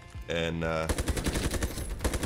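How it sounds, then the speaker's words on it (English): Training M4 rifle fire in a first-person shooter video game: after a brief voice and a tonal game sound, rapid automatic bursts rattle out loud and close for over a second. "M4. Let's go. It's really funny to use this weapon"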